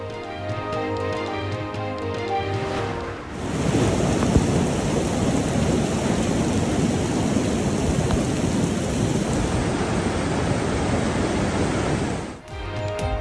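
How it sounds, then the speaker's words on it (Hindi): Heavy rain and thunderstorm in California: a dense, loud wash of rainfall with rumbling thunder, running steadily for about nine seconds before cutting off abruptly. "अमरीकी रियासत कैलिफोर्निया में बारिशों से निज़ाम जिंदगी दरहम बरहम।"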